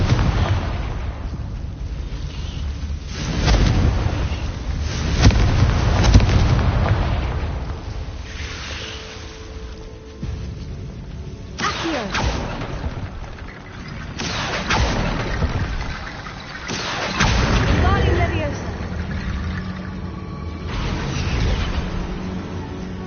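Repeated booming explosions from the Confringo spell in a Harry Potter-style video game on PS4, heavy low-end blasts recurring every few seconds, loud and rumbling with crackling debris between them.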